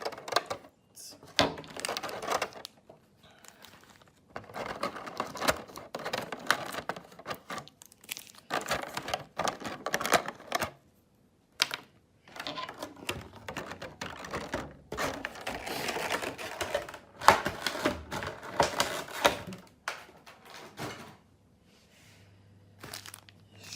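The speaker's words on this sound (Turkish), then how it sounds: "Koruma açalım." A Pokemon figure's plastic protective packaging crinkles and crunches in bursts of handling, separated by short quiet pauses, with no voices.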